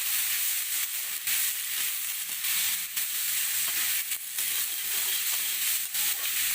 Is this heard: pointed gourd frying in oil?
yes